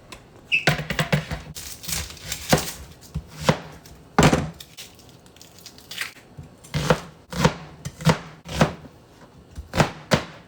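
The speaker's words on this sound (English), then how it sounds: "Cutting an onion." Knife chopping an onion on a board, a close series of sharp irregular cuts, some in quick pairs and others spaced a second or so apart, with no talking.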